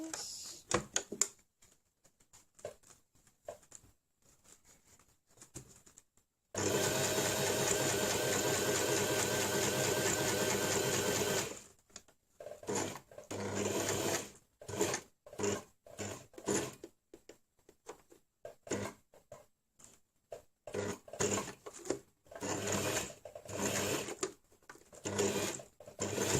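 A sewing machine stitches a zippered fabric pencil case in one continuous, close, steady run lasting about five seconds, framed by quiet handling noises and soft clicks before and after.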